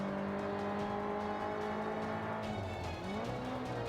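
Car engine from Forza 5 gameplay, a heavy executive sport car revving at steady pitch as its tail swings out in a spin, with a faint tire skid and the engine note shifting downward near the end; no talking.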